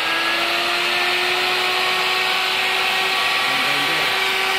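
A power tool cutting down steel shafting runs with a steady high-pitched whine and buzzing drone, loud and close, continuous throughout with a slight shift in pitch near the end.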